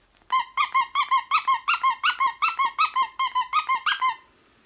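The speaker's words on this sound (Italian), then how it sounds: "Questo è un giochino che ho preso per la Lilla, sempre di Shane, che fa questo suono" A squeaky pet toy bought from Shein is squeezed repeatedly, giving about fifteen close, evenly spaced high squeaks in a quick steady rhythm over four seconds, with nothing else heard.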